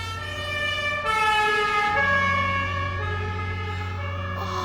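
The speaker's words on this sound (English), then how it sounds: "I think the fire engines are coming right past our house." Fire engine sirens wail loud and close as the trucks pass by a house, the steady multi-tone siren sweeping in pitch over a low engine rumble, alone without talk.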